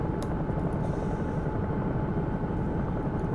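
A Bell 222 air ambulance helicopter in the X-Plane 11 flight simulator produces a steady, loud rotor and engine drone from inside the aircraft, unbroken throughout.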